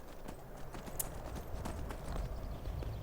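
Horse hooves gallop in Skyrim with a steady, rapid clip-clop rhythm over a low rumbling ground bed, moderately loud throughout.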